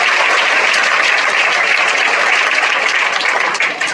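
Dense, steady applause from a crowd at a student toppers' award ceremony in Bihar fills the whole stretch, loud and continuous, with no voices above it.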